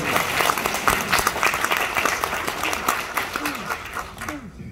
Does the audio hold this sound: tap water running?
no